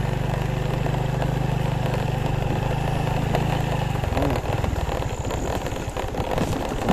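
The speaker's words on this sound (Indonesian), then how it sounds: "Dengan menggunakan motor Revo" A Honda Revo motorcycle engine runs steadily at a low idle-like hum, then shifts to a rougher, pulsing chug partway through, close and loud on a mountain village trail.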